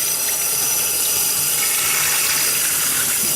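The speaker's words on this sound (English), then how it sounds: "you just want to go ahead and rinse this inside and out with cold water, not warm" Cold tap water gushes steadily into a sink while a whole turkey is rinsed inside and out, a loud continuous splashing hiss with no talking.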